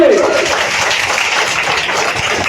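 Applause at a school quiz and sit-and-draw competition prize-giving, a steady dense wash of many hands clapping, loud and close for the whole stretch, with a voice briefly audible at the start.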